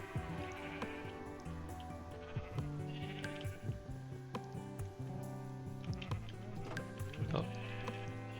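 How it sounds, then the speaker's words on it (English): Sheep bleating in the Minecraft video game: repeated game bleats over a continuous bed of background music, with several calls spread across the stretch, fairly steady in level. "Oh, what a nice sheep."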